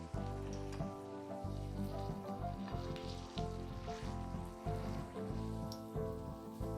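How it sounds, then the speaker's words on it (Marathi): Matar vadi, crisp green pea fritters, dropped one by one into hot oil, giving a steady dense sizzle and crackle with small bursts throughout, close and continuous, with no voices. "आता एक एक वडी आपण ह्या प्रकारे कालतीच्या मदतीने घेऊन तेलामध्ये सोडूया"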